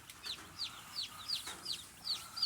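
Baby chicks peep in a brooder, sending out a steady series of high, sharp chirps about twice a second, faint and alone against a quiet background.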